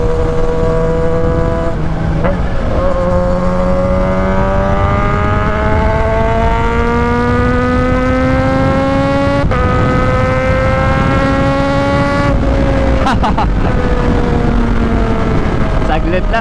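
A Kawasaki ZH2 superbike engine revs loudly and continuously while riding, its pitch climbing steadily through the gears with brief drops at shifts, heavy wind rush over the microphone throughout.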